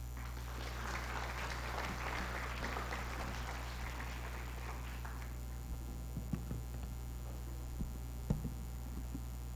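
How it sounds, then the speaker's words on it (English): At a student-faculty research conference, an audience applauds steadily for about five seconds as a soft, broad wash over a constant low hum, then fades to near silence with a few faint taps. "let's give our national scientist, Dr. Luli Cruz, the warmest round of applause that we can give"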